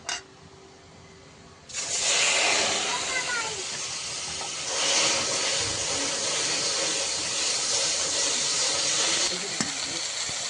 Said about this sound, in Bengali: লোটে মাছটাও তো মাখিয়ে নিয়েছি কোনোটাও বেশ গরম গরম আছে এখন দিয়ে দেবো দিয়ে একটু সুন্দর করে ভেজে নেব